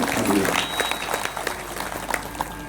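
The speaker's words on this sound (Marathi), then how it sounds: "स्थानाची मूळ आराध्य उपासना देवता श्रीराम भक्त हनुमान महाराजांनाही जोरात टाळी वाजवून कोटी कोटी केला" A kirtan audience in a temple claps loudly together, a dense burst of applause that tapers off slightly over a few seconds.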